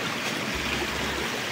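A river that has to be crossed on foot rushes steadily outdoors: an even, continuous wash of flowing water with no voices over it.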